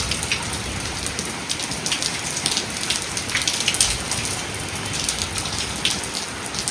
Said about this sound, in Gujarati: સારો આવી ગયો વરસાદ.